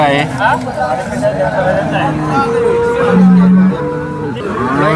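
A Jersey cow lets out a low, drawn-out moo close by at a cattle market while people talk over and around it.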